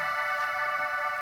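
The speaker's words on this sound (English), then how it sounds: "it's just this very airy pad" A Korg M1 synthesizer plays an airy pad patch, a steady sustained chord held smoothly and evenly throughout a short moment with no other sounds.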